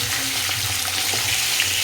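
Fish head curry cooking in a pan, a loud continuous sizzle with faint clinks and bubbling texture running through the short stretch, no one speaking.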